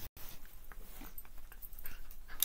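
A dog whimpers and pants up close indoors, soft uneven breathy puffs and faint whines in a short quiet stretch.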